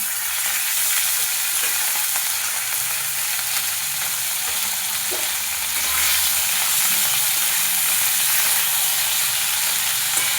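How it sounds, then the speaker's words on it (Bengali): Potatoes and bottle gourd stems and leaves frying in a pan, a loud, continuous hissing sizzle close up, steady from start to end with faint stirring. "আলুটা একটু ভাজা ভাজা হয়ে গেছে"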